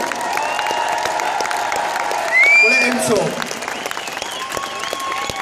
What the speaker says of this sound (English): Ladies and gentlemen, give a big round of applause.